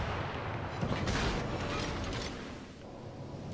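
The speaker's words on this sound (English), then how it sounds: "Get a couple of shots off here, see if we can get any fires going" Naval artillery in World of Warships: Legends booms out as a heavy, rumbling salvo near the start, then rolls off into a fading low wash of ship and sea noise.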